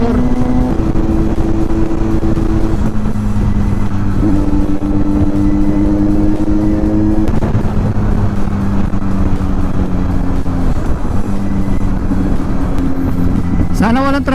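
A motorcycle cruises fast along a highway, its steady engine drone loud and constant with slight pitch shifts as the throttle changes, heavy wind and road noise throughout.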